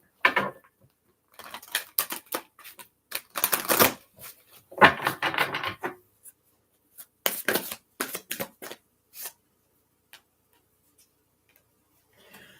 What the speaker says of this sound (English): Let me give it a couple shuffles first.